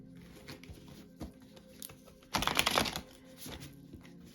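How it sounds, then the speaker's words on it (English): Tarot card decks being mixed and shuffled by hand, a faint papery riffle and patter with one louder burst of shuffling midway, heard alone without speech. "You mix up these decks and shuffle real nicely."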